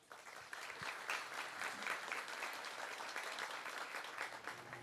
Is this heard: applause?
yes